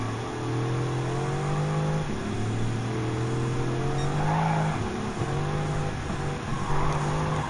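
Race car engine in the Gran Turismo 7 video game, a steady loud drone with shifting pitch as it revs and changes gear, continuous throughout with brief dips between shifts.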